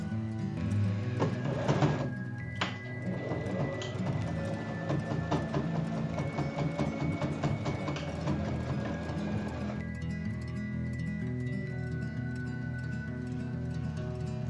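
A sewing machine stitches across folded fabric for a scrunchie, a rapid mechanical clatter running for several seconds after a few clicks, then stopping, with no talking.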